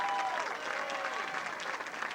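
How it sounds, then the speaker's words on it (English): Audience applause at a 2006 Mishawaka High School commencement ceremony, steady clapping from a large crowd sustained through the whole stretch with a faint tone and possible murmuring beneath. "Please give them all a round of applause."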